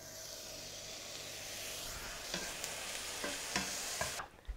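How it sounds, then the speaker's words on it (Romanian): Beef shawarma fries in a hot pan with a steady loud sizzle, while scattered clicks and scrapes of stirring cut through, and the hiss drops away abruptly near the end. "luăm șaurma și o punem și o prăjim pe ambele părți câte puțin"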